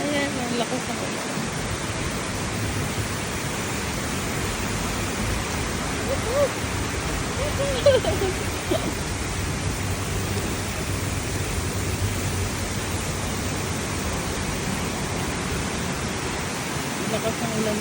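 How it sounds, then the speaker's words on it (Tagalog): A constant roar of heavy rain in Johor Bahru, broad and unbroken for the whole stretch, with a faint voice briefly surfacing partway through. "Ayan, ang lakas ng ulan."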